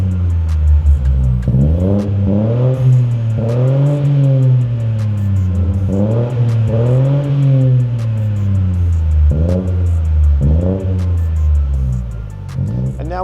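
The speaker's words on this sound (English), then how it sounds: "Starting off with the axle back, which will be a little bit quieter due to the resonator section." A BMW 118i M-Sport fitted with an axle-back performance exhaust and resonator section revs repeatedly, each blip rising and falling in a steady rhythm, loud and close, with a continuous rumbling drone between revs and no talking.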